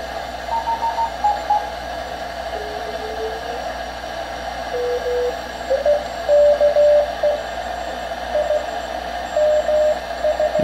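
A single steady receiver tone near 600 hertz from a Vectronics 1140K receiver kit during alignment, held fairly constant as it is tuned, over a background of radio hiss and faint stepping pitch shifts.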